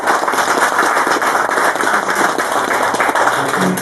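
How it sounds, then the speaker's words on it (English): Crowd applause for project partners at an outdoor coal mine tunnel headframe dedication, a loud, dense crackle of many hands clapping close by, steady throughout with no talking over it. "I think it is only fitting that we give all the project partners here a good round of applause"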